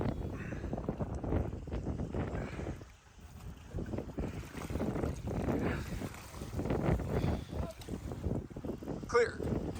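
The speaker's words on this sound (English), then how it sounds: "Because the wind is fierce." Strong, gusty wind roars around a float plane on the water, with steady buffeting rumble and microphone wind noise throughout, and people talking underneath.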